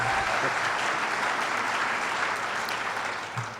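Audience applause fills a large conference plenary hall, a thick continuous wash of many hands that stays strong and then begins to taper off toward the end.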